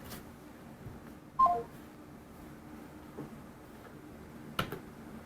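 A phone answering on its own, with a few brief, isolated dial-tone beeps and clicks heard close by against a quiet background, with no speech.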